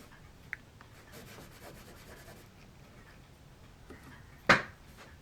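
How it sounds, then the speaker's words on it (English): A hand-held poking tool pressed into the hull of a model ship, giving faint scratchy rubbing followed by one short, sharp scraping burst near the end, close up in a quiet room. "what I've got here is Mr. T's poking device, and we're just going to poke a little hole here"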